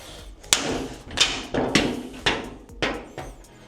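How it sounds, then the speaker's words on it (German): A punch tool drives ventilation holes into standing seam metal roofing sheet, giving about six sharp, close metallic thuds at a steady, roughly half-second rhythm with no talking. "Für die Belüftung stanzen wir wieder Löcher rein."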